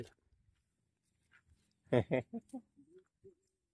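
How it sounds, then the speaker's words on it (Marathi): A dog near the Shiv-era temple at Salher lets out a few short, close yelping barks in quick succession, followed by quieter trailing sounds against near silence. "ये देखो डॉगी"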